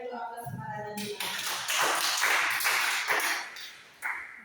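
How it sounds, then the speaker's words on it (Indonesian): A classroom of students applauding: a voice speaks briefly, then a burst of clapping from many hands fills the room, swelling, easing off and ending in a short final flurry. "Jadi anak-anak ibu berikan dulu aplaus"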